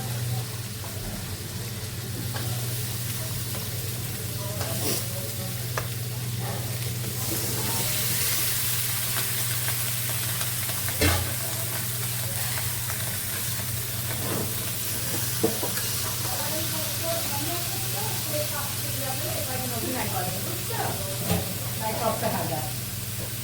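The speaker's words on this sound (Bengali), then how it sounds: "মশলাটা কষানো হলে আমি দিয়ে দেবো তরকারি মশলা কষানো শেষ আমি দিয়ে দিচ্ছি" Spice paste frying in a pan, a steady broadband sizzle with occasional stirring scrapes, continuous and fairly loud throughout, while a low steady hum runs underneath.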